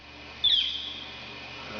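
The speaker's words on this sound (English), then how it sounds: "Now the guy's hearing a bird call" A brief, high bird call rings out once against a quiet background hum at Salt Fork.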